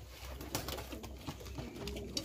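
Pigeons coo softly at a Bengali pigeon loft, a few quiet, low rhythmic coos repeating against faint background noise.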